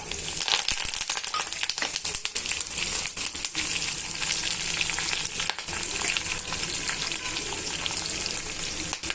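Chana dal, dried red chillies, crushed garlic and curry leaves crackle loudly in hot oil, a dense, continuous close-up fry with occasional stirring rattles.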